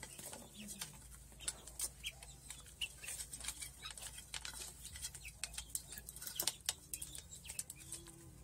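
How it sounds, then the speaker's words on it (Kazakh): A broody hen clucks in a farmyard, with soft, scattered clucks amid other chicken calls and occasional wing flapping, moderately close and fairly quiet throughout. "Ар жақта күрік тауық жатыр."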